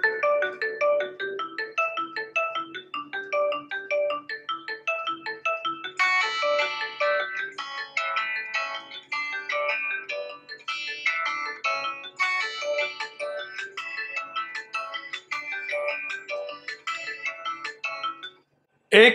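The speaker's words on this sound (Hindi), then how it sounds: "चलिए अब हम एक रिंगटोन को प्ले करते हैं।" A melodic phone ringtone plays loud and steady through a smartphone speaker during a speaker comparison of the Honor Play, Redmi Note 5 Pro and Xiaomi Mi A2, its bright repeating notes running continuously for about eighteen seconds before cutting off.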